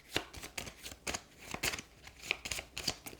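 Quick riffling bursts of Terraforming Mars board game cards being shuffled, several flutters in a row, close and fairly quiet.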